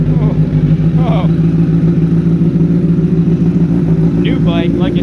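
A freshly started custom motorcycle with racing-style levers idles loud and steady, its engine drone filling the whole stretch while a voice cuts in briefly over it.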